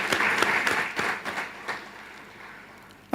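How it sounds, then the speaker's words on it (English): An audience at a community college graduation ceremony applauds a sports team with a broad, dense wave of clapping that holds for a second or so and then fades steadily to near silence. "Let's warmly applaud our team."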